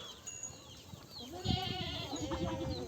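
A goat on a farm bleats in a string of wavering, close calls, loud and harmonic, with a brief stir of other livestock sounds and no talking.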